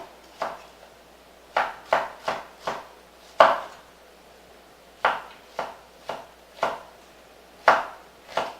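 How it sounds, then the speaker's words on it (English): A knife slices through vegetables onto a cutting board, about a dozen crisp, separate chops in an uneven rhythm, close and clear with no talk. "So just go ahead and just slice them."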